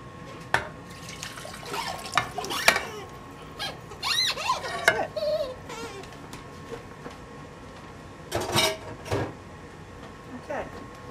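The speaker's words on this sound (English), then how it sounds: "So we're gonna pour it into a pot now." Gravy for a roast chicken dinner, coloured with paprika and pan scrapings, pours into a pot in short liquid splashes and trickles, nearby and fairly quiet, with a few clinks of utensils in a home kitchen.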